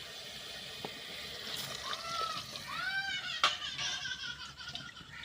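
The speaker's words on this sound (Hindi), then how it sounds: "ये जी पानी ऐड हो गया" Water splashes into a cooking pan, a splattering pour with sizzling and sloshing under background noise, over which a woman and children can be heard.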